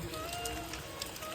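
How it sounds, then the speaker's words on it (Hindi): Heavy rain falling in the mountains of the Kumaon–Garhwal region, a soft, dense continuous hiss of drops with scattered faint patters, steady and fairly quiet with no talk. "बारिश आ चुकी है भाई भयंकर वाली"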